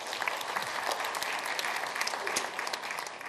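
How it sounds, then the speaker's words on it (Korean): Audience applause at a regional forum, a dense, even burst of clapping from a seated crowd lasting a few seconds, moderately distant. "이강덕 시장님께 박수 한번 해주시기 바랍니다."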